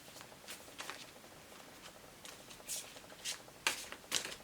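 A tarot deck is shuffled by hand in soft, uneven riffling bursts, quiet and close, with the sharpest flicks toward the end.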